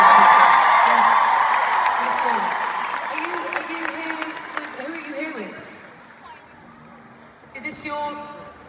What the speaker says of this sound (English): a round of applause for this beautiful lady.